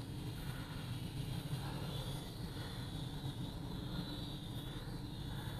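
A JJRC H31 waterproof RC quadcopter carrying an extra payload in flight, a steady, fairly distant whining buzz of small rotors that rises and bends slightly in pitch as it turns, with no talk.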